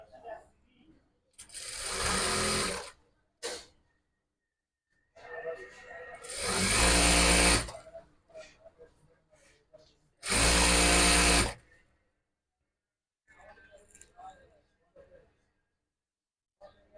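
Tailor's sewing machine stitching a niqab in three loud close bursts of one to two seconds, with softer handling noises between them.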